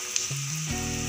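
Egg chops made with egg and potato sizzle steadily as they are dropped into hot refined oil for deep frying, a loud, continuous close-up crackle throughout.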